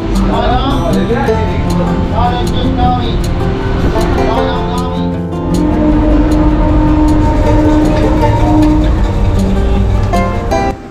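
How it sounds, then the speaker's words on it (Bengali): A passenger train pulling out of Santragachi station bound for Digha, a loud, close, continuous rumble and rattle of the carriages, with voices talking over it throughout. "ট্রেন ছেড়ে দিল"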